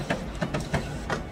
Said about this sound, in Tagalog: Okay, so magpiprint muna tayo ng nozzle check.